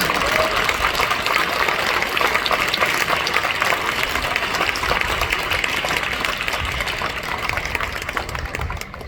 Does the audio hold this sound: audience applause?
yes